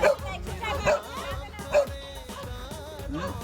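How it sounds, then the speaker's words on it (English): A dog barks and yips a few times at moderate distance, short sharp bursts spaced about a second apart, with a voice talking and some background babble throughout. "Where's this dog?"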